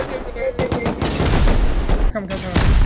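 An automated turret in the video game Rust fires loud rapid bursts of gunfire, several volleys separated by short gaps, with a voice speaking between and under the shots.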